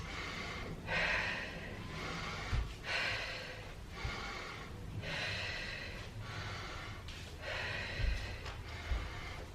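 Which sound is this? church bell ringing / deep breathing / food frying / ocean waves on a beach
deep breathing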